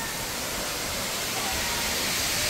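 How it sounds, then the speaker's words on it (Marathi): Savatkada waterfall in the Konkan region, a steady broadband rush of falling water that roars evenly and continuously without a break. "जो महत्त्वाचा धबधबा आहे, जो मुख्य धबधबा आहे सवतकडा"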